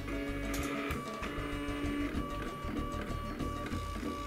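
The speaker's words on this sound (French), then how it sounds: "Et là normalement il est en train de graver automatiquement mon araignée." A smart laser engraver starts engraving a spider design, giving off a steady mechanical whir with tonal hum, fan noise and faint rhythmic ticks as the head moves, close and continuous.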